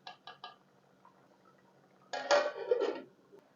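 Spoon scraping and clinking against a pot while serving beef aloo gosht, three quick metallic taps followed by a louder, longer scrape and clatter near the end, close and otherwise quiet.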